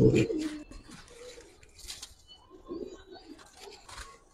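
Pigeons, a large hen among them, coo in low soft throaty phrases close by, with brief chirps and faint rustling in a quiet room.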